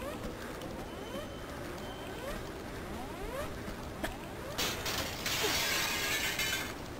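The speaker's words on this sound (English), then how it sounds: "what was the breaking glass noise?" Glass shattering in Tomb Raider II, a bright crash of breaking panes that bursts out over steady mechanical ratcheting and gear-like clanking, louder and noisier toward the end.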